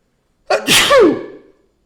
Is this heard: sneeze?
yes